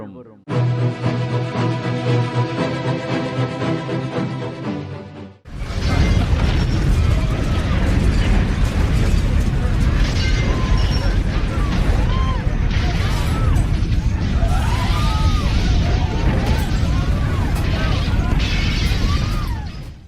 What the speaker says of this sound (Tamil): இறுதி நாளில் மிக பெரிய நிலநடுக்கங்கள் வரும்